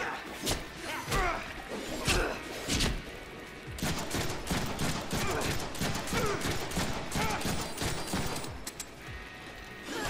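Rapid bursts of gunfire and thumping impacts from the Deadpool video game, dense and continuous with sharp cracks and whooshes throughout, loud and busy across the whole stretch.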